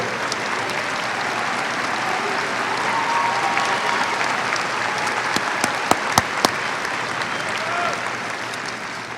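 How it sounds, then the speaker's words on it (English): A high school graduation audience breaks into broad, sustained applause for teachers, paraprofessionals and staff, a dense wash of many hands filling a large hall, with a few sharper claps standing out near the end. "A round of applause for all our teachers, paraprofessionals, and our Tiger staff."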